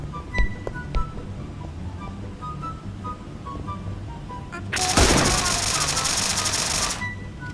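Gunfire in the video game PUBG: a few sharp isolated shots early, then a loud sustained burst of automatic fire lasting about two seconds before fading back to quieter background sounds.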